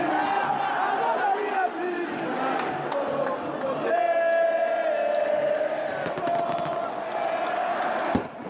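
Football supporters in a stadium crowd cheering and chanting at half-time, a broad roar with whoops and shouts, sustained voices rising and falling, a sharp bang near the end.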